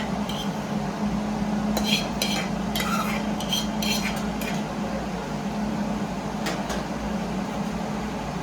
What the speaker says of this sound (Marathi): तर याच्यामध्ये आपण आपला राईस ॲड करून घेऊया.